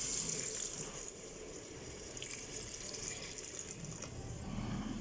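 Water streams steadily into a pot of methi gosht, about one and a half cups poured in a continuous, fairly quiet splashing rush with no talking over it.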